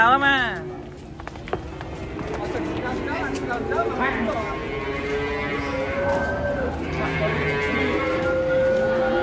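Malbor cattle low and moo repeatedly while being unloaded from a truck, long drawn bellowing calls overlapping one another, loud and near, with people talking in the background.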